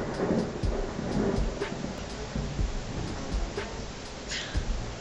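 Thunder rumbles in low, rolling swells from a thunderstorm outside, with a steady rain-like hiss throughout and no voices.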